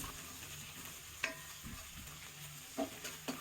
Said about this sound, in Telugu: అల్లం పేస్ట్ కూడా వేసేసా బాగా వేగనిచ్చేద్దాం